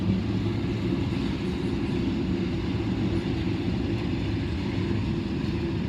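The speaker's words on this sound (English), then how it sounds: "We do have a helper loco on the end here." The tail of a long unit ethanol freight train rumbles by with a helper locomotive on the end, a loud, sustained low roar of wheels and cars that holds steady for the whole stretch, with no talking.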